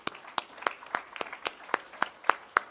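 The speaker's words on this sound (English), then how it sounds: "you all deserve a big round of applause" Scattered audience clapping at a state children and family services scholarship award ceremony, a dozen or so distinct claps in an uneven rhythm, moderately near and fairly light, with no talk over it.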